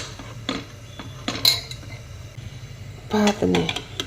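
Pots and metal utensils clatter and clink in a Gujarati home kitchen as a pressure cooker is loaded, with scattered knocks and a sharp burst of clanking near the end over a low background hum.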